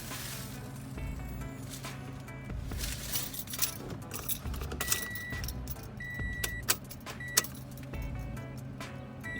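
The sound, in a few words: car ignition being turned on with keys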